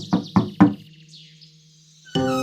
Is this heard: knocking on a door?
yes